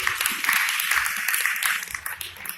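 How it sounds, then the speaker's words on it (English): Audience at a Columbus, Ohio business event applauds a founder and CEO as he is introduced: dense, steady clapping from a crowd, fairly loud throughout and tapering slightly toward the end. "Round of applause for Will."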